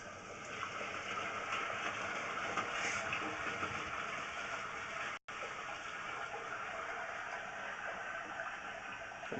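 A toilet flushed into a newly patched sewer pipe makes a steady, even rush of water lasting about nine seconds, with one brief dropout midway and no talking.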